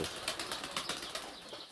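Pigeons flap their wings around a morning feeding at a dovecote in Altai, a soft, fluttering whoosh with repeated bursts of wingbeats, fairly close and steady throughout.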